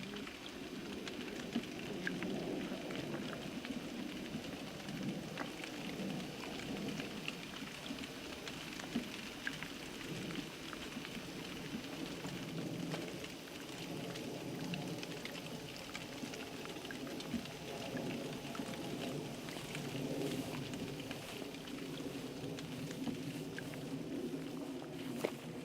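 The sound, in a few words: rain falling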